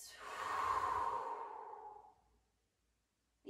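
A long, slow exhale during a yoga flow, a soft airy whoosh swelling and then fading out over about two seconds, close and alone, followed by near silence.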